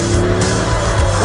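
A big American car with an 8,300cc engine drives hard through a corner, its deep engine roar steady and loud alongside a sustained tire squeal, close and continuous for the whole short burst.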